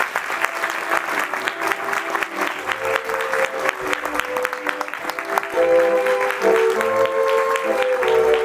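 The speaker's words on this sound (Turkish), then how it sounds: "Hakan Tabakan, alkışlarınızla" An audience at a theatre awards ceremony gives a sustained round of applause for a best-writer prize, with dense, loud clapping that swells and grows fuller toward the end, along with faint crowd murmur.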